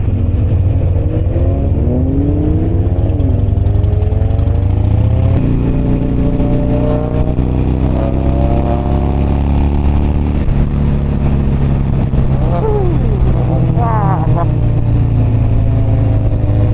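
A Nissan GT-R passes close on a road with speed humps, its engine revving and rising, then blipping sharply through quick downshifts, loud over a constant motorcycle engine drone and wind noise.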